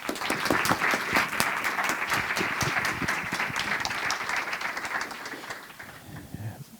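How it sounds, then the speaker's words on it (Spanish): A room of attendees applauds at the close of a tech talk on app accessibility, a dense, steady wash of clapping that fills the space, then thins and fades toward the end. "Poco aplauso, he escuchado."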